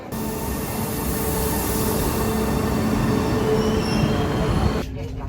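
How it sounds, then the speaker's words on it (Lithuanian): A steady, loud rumble and roar from inside a moving train, with a constant mechanical drone that shifts slightly just before the end. "Na štai sėdau į traukinį"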